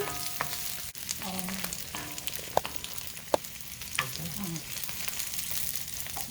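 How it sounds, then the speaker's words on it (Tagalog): Half an onion sautéing in a pan for a Filipino ampalaya and sirloin beef dish, a steady close sizzle with occasional stirring clinks and scrapes, no voices. "I only use half of the onion. Saute until it's translucent in color."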